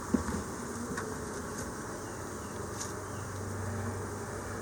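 Honeybees swarm over the frames of an opened hive, making a steady, dense buzz that holds at an even level throughout with no voices.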